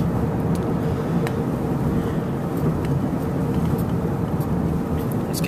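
A car drives along at steady speed, a continuous close road and engine rumble with tire noise and faint scattered ticks, heard alone without talk.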